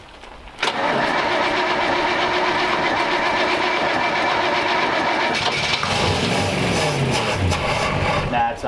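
A 1934 Ford Tudor Sedan engine, run after long storage, cranks and catches, then keeps running loud and close with a rough, uneven rumble. Voices talk faintly beneath it.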